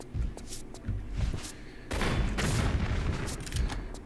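Booming bazooka fire in Tomb Raider III: several heavy thuds, then a big blast with a long rumbling tail and more scattered shots, loud and close.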